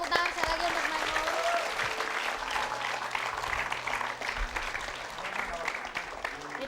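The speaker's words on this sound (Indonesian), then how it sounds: "kita kasih tepuk tangan sekali lagi untuk Mbak Nur" Studio audience applause on an Indonesian TV game show, a dense steady wash of many hands clapping for several seconds, with a faint voice and music bed underneath.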